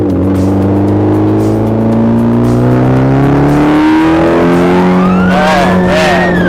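A modded 2015 Mitsubishi Lancer Evolution X accelerates hard under turbo boost, its engine note climbing steadily and loud, close inside the cabin, with a high whistling tone rising near the end.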